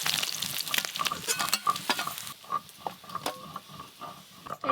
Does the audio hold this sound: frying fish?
yes